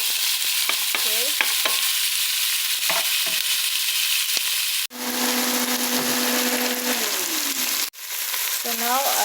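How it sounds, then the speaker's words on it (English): Onion frying in oil for rutabaga fried rice, a steady close sizzle with repeated scraping stirs; a few short spatula knocks, and a brief loud rattling burst in the middle. "So now I'm stirring our onion."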